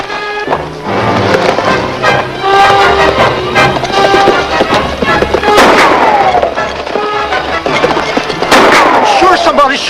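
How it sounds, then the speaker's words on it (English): Gunfire rings out in a 1945 western film, loud repeated shots and ricochet whines cracking over a rumbling soundtrack, with shots scattered densely through the whole stretch. "Sure somebody's shooting at us."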